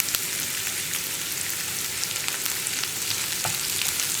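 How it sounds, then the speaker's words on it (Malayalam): Onions being sautéed and stirred in a pan for potato masala make a loud, even crackling sizzle throughout, with faint ticks and pops scattered on top. "സവോളയും കൂടി ചേർത്തിട്ട് നന്നായിട്ടൊന്ന് വഴറ്റിയെടുക്കണം"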